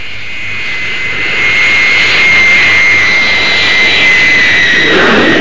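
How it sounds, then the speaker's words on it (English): A Handley Page Victor B-1 bomber powered by four Armstrong Siddeley Sapphire jet engines roars loudly and continuously, a sustained jet whine with a steady high tone that builds slightly as the aircraft passes. "The Victor B-1 is powered by 4 Armstrong Siddeley Sapphire jets and has immense striking power."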